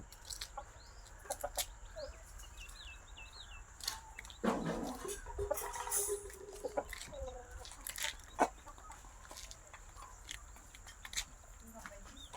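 Caged chickens cluck and chirp intermittently at a distance on a poultry farm, with a brief burst of louder squawking midway and occasional voices in the background.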